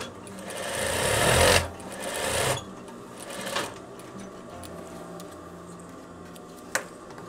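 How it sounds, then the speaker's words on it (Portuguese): Close-up sewing machine stitches a double seam across the opening of a coverall pocket in two main bursts of running, followed by quieter mechanical clicks and a sharp tap near the end, with no voices. "Vou passar 2 costuras também na boca desse bolso"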